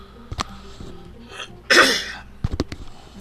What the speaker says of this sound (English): Do apologise for all the coughing.